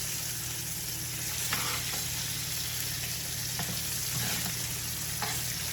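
A thick tomahawk steak sears on a hot griddle, giving a steady, quiet sizzle and crackle with a few sharper pops, no voices present.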